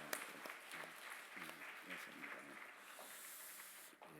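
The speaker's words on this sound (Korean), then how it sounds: "다시 한번 뜨거운 박수 들어가실 때 감사합니다" A congregation at a Sunday afternoon church service claps warmly, a faint, distant patter of many hands, while a voice speaks over it.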